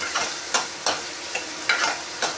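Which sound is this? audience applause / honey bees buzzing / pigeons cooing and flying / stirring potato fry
stirring potato fry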